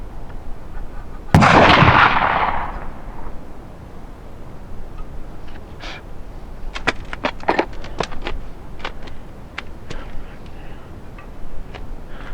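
One loud, close gunshot from a black powder .54 caliber under-hammer rifle, with a sharp crack and a long booming decay, followed by small clicks and ticks of handling the gun.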